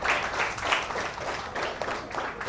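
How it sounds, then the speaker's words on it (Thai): A classroom of students applauds a classmate with steady, dense clapping that holds at an even level from start to finish. "ปรบมือให้เพื่อน"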